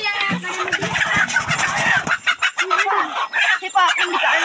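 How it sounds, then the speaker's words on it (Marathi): Chickens clucking inside a coop, with a rooster-like crow mixed in; the birds sound close and busy throughout, with a voice talking over them. "कोंबडी आहे आकड्यामध्ये."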